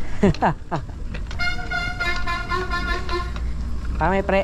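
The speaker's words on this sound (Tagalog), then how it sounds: "May busina." A car horn honks in a long, steady tone over rumbling traffic, with people talking nearby before and after.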